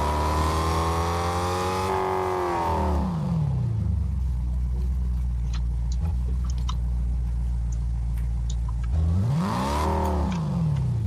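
A car engine in the video game Fortnite revs up with a rising whine, settles into a steady low rumble while driving, then revs and accelerates again near the end, loud and close.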